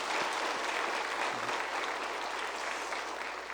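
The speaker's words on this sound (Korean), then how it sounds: "우리 다시 한번 박수 세게 한번." A church congregation at a revival gathering breaks into steady, even applause throughout, moderately distant and fairly quiet, with no voices rising above it.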